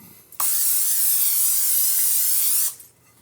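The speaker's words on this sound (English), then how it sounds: "I'm going to spray this with cooking spray." A close burst of cooking spray onto a shortbread pan: one steady, hissing spray lasting about two seconds, then it cuts off into quiet.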